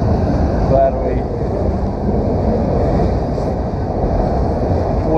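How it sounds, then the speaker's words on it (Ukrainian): A train passes in Canada, a steady loud rumble and rattle of rolling cars with some wind buffeting on the microphone. "Просто це перший поїзд, який я побачив в Канаді."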